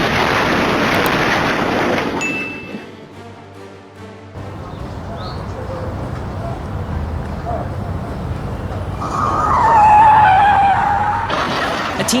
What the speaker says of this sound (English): A teenager was driving an SUV at high speed through a residential area on Las Americas Avenue in Spain, then lost control and drove onto the sidewalk